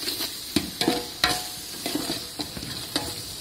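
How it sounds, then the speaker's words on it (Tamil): Biryani masala with coriander and mint leaves stirred in a pot for chicken dum biryani, a steady sizzle broken by repeated scraping spoon strokes against the pot, close and fairly loud, with no talking. "அடிப்பிடிக்காமல் இருக்க அதை கிண்டி விட்டே இருக்கணும்."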